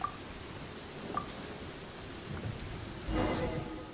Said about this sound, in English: Yeah, and it's raining.